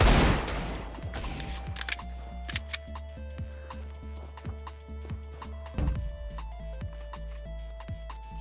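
Bursts of gunfire in a video game shooter, sharp cracks and rattling volleys spread irregularly over several seconds against low, steady background music, fairly quiet overall.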